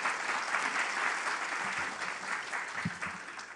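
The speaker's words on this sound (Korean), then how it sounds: "박수 한번 더 해주십시오" An audience at a Jeju forum on the future development of the free international city applauds in a steady, dense burst of clapping. It is moderately distant and continuous, with faint voices underneath.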